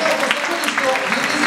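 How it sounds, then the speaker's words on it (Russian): An audience at a brass orchestra concert applauds with a dense, steady wash of clapping that runs throughout, loud and close. "можно начинать и подарить бурные аплодисменты."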